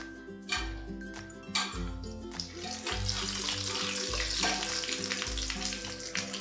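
Aloo bonda frying in oil over a medium-low flame, a steady bubbling sizzle that runs throughout under repeating low music notes.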